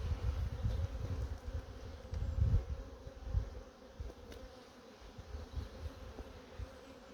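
Honey bees swarm around an opened brood hive during an inspection, producing a steady low droning hum that rises and falls with close, loud bursts, with no talking.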